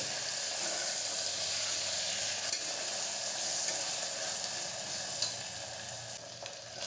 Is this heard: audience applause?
no